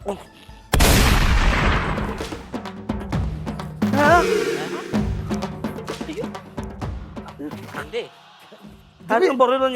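A sharp, loud gunshot from a real gun cracks out and rings away, followed by another blast, with people talking and laughing around it.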